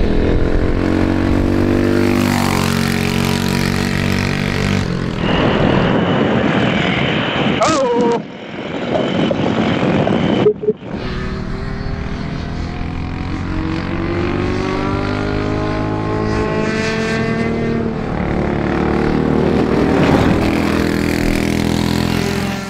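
Tillotson T4 four-stroke racing kart engine on a track during a high-speed test day, sharing the circuit with two-stroke X30 karts: a loud, continuous engine drone with rising and falling pitch as it accelerates, with a brief dip near the middle.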